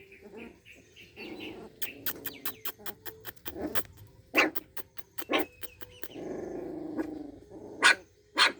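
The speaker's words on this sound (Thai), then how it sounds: "เห่าดีเชียวเห่าดีเชียว" Several puppies from a stray mother dog's third litter bark, yip and growl near the listener in a quick irregular series of sharp bursts, with a dozen short bright yaps, some overlapping and some spaced, between lower growling stretches.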